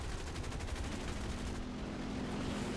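Aircraft guns fire in a rapid continuous stream during a War Thunder air battle, dense rattling bursts over the steady drone of a plane engine, with no talking.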